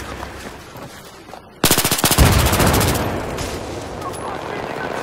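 A long, rapid burst of automatic gunfire from a multiplayer shooter video game, loud and close, running for over a second before trailing off under a voice.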